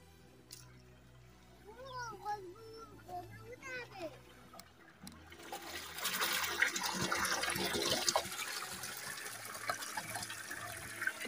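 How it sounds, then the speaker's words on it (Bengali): Water gushes steadily from the pipe of a shallow tube-well pump in rural Sundarbans countryside, a broad splashing rush that starts midway and continues loud and close, with people talking over it earlier. "আর এদিকে দেখো জল পড়ছে, পুরো শ্যালোর পুরো অরিজিনাল জল।"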